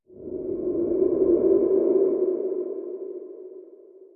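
A processed human sigh, enlarged into a grand, majestic game creature death sound, swells in as a single low breathy tone that holds steady, then slowly fades over several seconds, alone with no talk.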